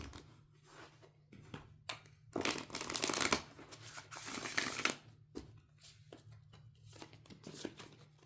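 A deck of Moonology oracle cards is shuffled in several close bursts of riffling and sliding, with short pauses between them and no talking.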